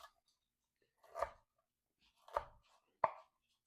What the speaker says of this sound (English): and just chop it up